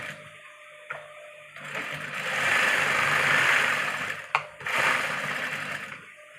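Sewing machine stitching a single seam along a fabric edge, a steady whirring hum that speeds up and runs for a few seconds, pauses briefly, then starts again, close and moderately loud with no talking.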